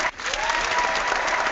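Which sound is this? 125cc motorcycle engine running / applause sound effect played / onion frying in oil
applause sound effect played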